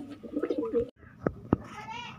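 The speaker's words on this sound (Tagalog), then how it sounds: "Halos kagabi lang natin nakakuha ng mga kalapatids." Pet doves give a few soft, short coos close by, mixed with a brief chirp and some quiet voices in the background.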